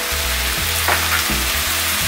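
Soy sauce going into water spinach stir-frying in a pan, a loud, continuous sizzle that holds steady across the moment with a brief flare partway through and no voices.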